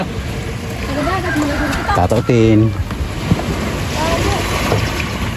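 A small boat crosses open water to a neighbouring village in the Philippines, with wind buffeting the microphone and people talking over the steady rumble.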